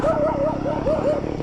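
A dog yelping and barking in quick repeated bursts close by, with a whiny rising-and-falling pitch, while chasing joggers on a morning run outdoors.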